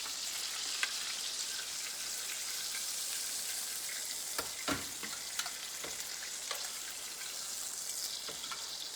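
Lemon butter chicken browns in a pan, a continuous soft, even sizzle with occasional sharper pops and spatters, fairly faint and heard alone.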